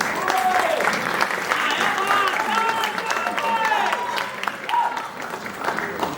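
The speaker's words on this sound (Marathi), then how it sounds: "सर या, जोरदार टाळ्या" An audience at a Marathi stage event for a tamasha performance breaks into loud, sustained applause, with a voice talking over the clapping throughout.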